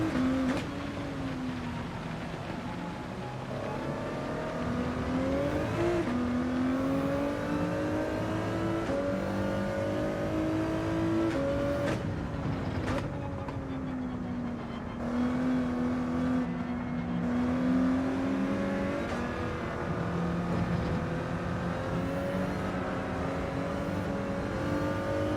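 Race cars in Gran Turismo 7 speed through wet weather, engines whining and shifting up and down in pitch as they accelerate and pass, a continuous close, moderately loud motor drone without talk.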